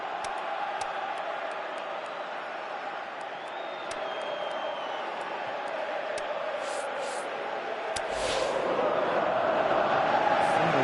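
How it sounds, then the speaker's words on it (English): A stadium crowd in the football video game PES 2018 roars and murmurs steadily in the distance, swelling louder toward the end, with occasional sharp clicks over the din. "you can hear how the crowd are reacting to this too"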